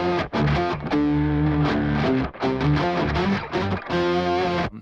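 A distorted rhythm guitar riff kept from the scratch track of a song plays alone, loud and steady, with short choppy gaps between chords.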